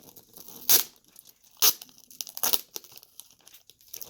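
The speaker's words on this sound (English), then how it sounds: "take this and tape it around" Tape torn from a roll and wrapped around a pot for growing kumquat seedlings: three loud, close ripping bursts spaced about a second apart, followed by softer crinkling handling sounds.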